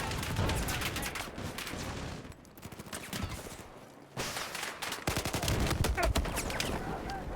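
Gunfire in Battlefield 4 multiplayer, loud rapid bursts of automatic shots that run nearly throughout, with a quieter lull in the middle and a voice talking at points.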